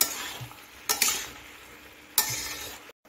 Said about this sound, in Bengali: এখন আমি আবার সব কিছু একটু মিশিয়ে নিচ্ছি নেড়ে চেড়ে।